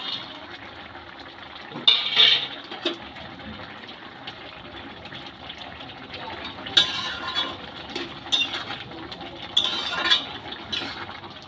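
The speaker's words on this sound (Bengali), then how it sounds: "এবার এতে ভেজে রাখা ডালের বড়াগুলো মিশিয়ে দেবো।" A metal spoon stirs fried lentil fritters into simmering ash gourd greens in a pot, giving soft wet sloshing broken by several bright clinks against the pot's rim, close and moderately quiet.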